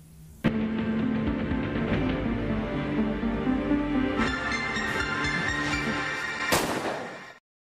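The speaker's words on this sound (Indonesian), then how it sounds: "Tepat di hadapan Jiman, Nami menembak Junyong palsu" Gunshots from a Korean movie scene ring out as a few sharp, loud blasts at the start, middle and end, over a dense, sustained dramatic backdrop.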